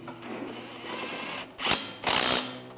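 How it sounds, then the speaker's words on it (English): A ratchet tightening a bolt during rear shock absorber replacement on a 2013-2016 Dodge Dart, giving short bursts of clicking with pauses between them, close and fairly loud, with no voices. "push that back in place, and tighten the bolt down"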